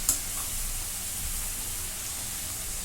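Chopped dill greens stir-fried in a pan with mung dal, a steady close hiss of frying with light stirring throughout.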